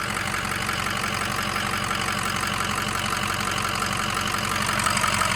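A 2006 Ford F250 with a 6.0 Powerstroke diesel engine idles steadily up close, a constant loud clattering rumble with an even mechanical ticking throughout and no other sounds.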